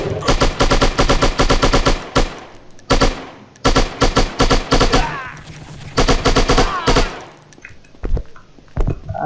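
AK-47 fire in the shooter game Striker comes in loud, rapid full-auto bursts of several seconds each, separated by brief pauses, with a few single shots near the end.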